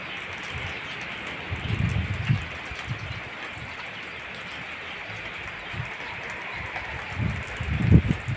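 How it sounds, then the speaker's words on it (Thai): Heavy rain falls steadily outdoors among garden plants, a dense continuous hiss with occasional heavier low splashes and gusts, no voices. "ฝนตกแล้วค่ะ"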